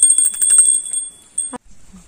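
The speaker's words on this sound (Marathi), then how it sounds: "आता आमच्याकडे ढोल वगैरे काय नाही, तर आम्ही घंटा वाजवत जातो" A hand bell rings rapidly for about a second, bright and close, during a traditional Gauri festival procession, then stops abruptly with a clunk.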